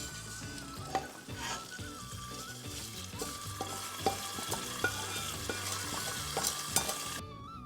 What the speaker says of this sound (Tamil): இப்போ இதை அடுப்பை ஆஃப் பண்ணிவிட்டு சொதியில் கொட்டிடலாம்.